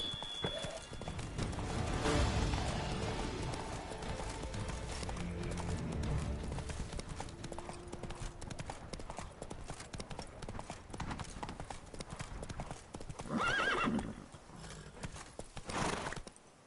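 Roach, the horse in Witcher 3's Blood and Wine expansion, gallops in rapid rhythmic hoofbeats throughout, with whinnies rising near the end.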